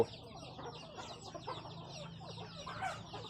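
Chickens on a farm cluck softly after being fed. Faint, scattered clucks sit over a low background hum, fairly distant and quiet throughout, with no talking.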